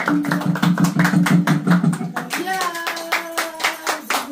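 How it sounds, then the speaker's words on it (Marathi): Rhythmic hand clapping from a small group at a home birthday celebration for Swami devotees, steady and brisk, with voices singing or chanting along in the background. "जोरदार टाळ्या"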